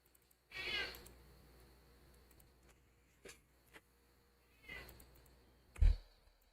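A cat meows twice, one clear cry near the start and a fainter one later, with small clicks and a heavier thump near the end, set against a quiet background during a baseball game broadcast.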